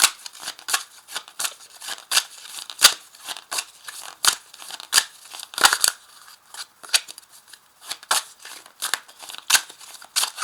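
Scissors snip repeatedly through paper for a tarot spread, a fast irregular run of crisp cuts heard up close with no talking.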